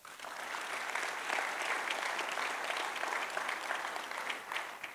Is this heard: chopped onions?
no